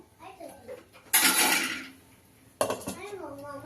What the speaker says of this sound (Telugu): ఇప్పుడు కొద్దిసేపు మూత పెట్టేస్తాము